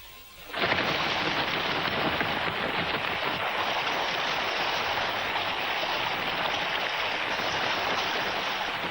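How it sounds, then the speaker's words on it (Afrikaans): Stormy wind howls around a lighthouse by the ocean, a steady, loud, broadband roar that swells in abruptly after a brief quiet moment and holds constant throughout with no voices. "hy kan darm nou seker ophou waai, vir wat gaan hy so te kere?"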